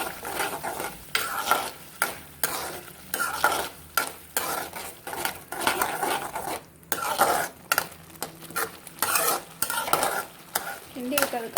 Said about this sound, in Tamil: 2 முட்டை எடுத்துக்கிறோம். அதை அதில் சேர்த்துட்டு நல்லா கிண்டி விடணும்.